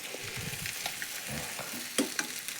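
Egg palya being stirred in a hot pan, sizzling and frying steadily while a utensil scrapes and clicks against the metal, close and alone.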